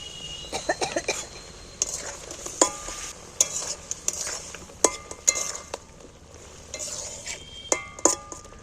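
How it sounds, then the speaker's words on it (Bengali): Jackfruit pieces tumble into a simmering spicy sauce and are stirred, with a soft bubbling sizzle under repeated sharp clinks and scrapes of a spoon against the pan in an uneven rhythm. "ঝালটা আমার ফুটছে এইগুলো ঝালের মধ্যে তুলে দিচ্ছি"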